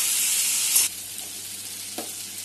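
Half a capsicum sizzles in a pan for a masoor dal, a loud frying hiss that suddenly drops to a quieter, steady sizzle with a short clink partway through.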